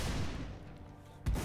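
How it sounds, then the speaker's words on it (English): Cannon fire during a Roblox fort raid at Fort Sumter: a low rumbling wash gives way to one loud, close boom near the end. "they just shot cannons"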